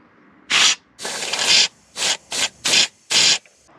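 Compressed air blasts into a brake bleeder on a Dana 70 forklift axle in six sharp bursts of hissing spray, one longer than the rest, with quiet gaps in between.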